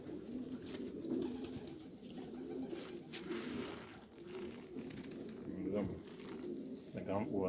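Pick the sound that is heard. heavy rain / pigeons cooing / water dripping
pigeons cooing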